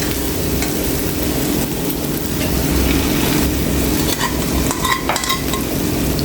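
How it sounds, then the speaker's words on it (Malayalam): Fried tilapia pieces go into a pan of sizzling biryani masala with ghee and coriander leaves, producing a continuous close sizzle with stirring scrapes and a few light clinks. "ഇനി നമ്മൾ അതിലേക്ക് വറുത്ത് വെച്ച മീനിട്ട് കൊടുക്കും."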